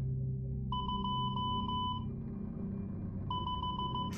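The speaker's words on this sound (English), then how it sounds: "I'm going to send it in Morse code." Morse code beeps spelling out an SCP number: two bursts of short and long steady tones, clean and prominent over a low background hum, with a pause in the middle.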